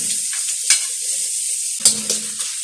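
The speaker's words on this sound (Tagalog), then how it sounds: "So yun nga mga parigigisa na natin ang sibuyas." Onions sauté in hot cooking oil in a pan, giving a steady bright sizzle with a couple of sharper stirring clatters and scrapes, no voices present.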